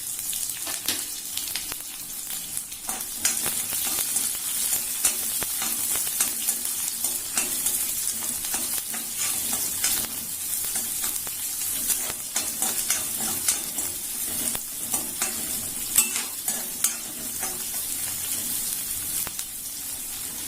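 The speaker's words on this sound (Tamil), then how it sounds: "வெங்காயம் கொஞ்சம் வதங்கட்டும்" Small onions fry with dried red chillies in a pan, giving a continuous close hiss of hot oil with light stirring scrapes and splutters throughout, steady and unbroken.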